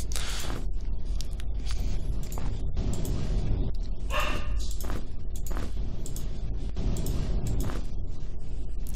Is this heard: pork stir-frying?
no